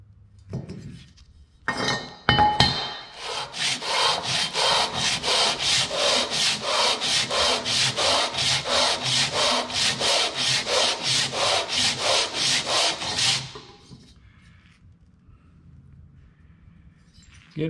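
A Wisconsin engine cylinder head being sanded by hand around its outside edges and bolt holes, about twenty steady back-and-forth rasping strokes in an even rhythm, close and alone, ending in quiet.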